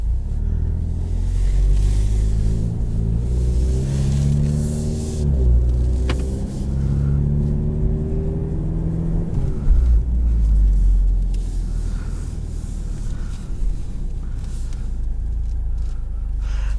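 A 2020 Ford Mustang EcoBoost automatic with a performance exhaust pulls off over snow, its engine note rising through a couple of revving gear pulls, then settling into a steady low rumble, loud and close from inside the car.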